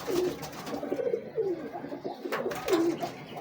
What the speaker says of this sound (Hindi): बाजी मेकर कबूतर हैं माशाल्लाह सारे